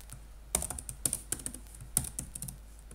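A password is typed on a computer keyboard: a short burst of close, crisp key clicks in quick irregular runs with brief pauses, with no talk over it.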